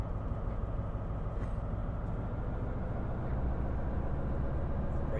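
Class 43 high-speed train pulling away in Train Sim World, a steady low rumble and drone heard from the cab, even and continuous throughout without any voices.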